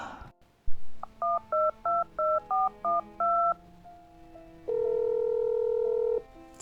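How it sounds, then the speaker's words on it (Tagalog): A telephone being dialed: eight short touch-tone beeps in quick even succession, then a longer steady tone, heard alone and close with no talk. "Tawagan ko kaagad si Jonah"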